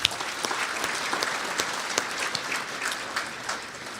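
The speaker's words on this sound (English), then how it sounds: "Please, round of applause for the NTPA board." Banquet guests at an annual awards dinner clap for the board, a sustained round of applause with distinct sharp claps standing out from the steady patter.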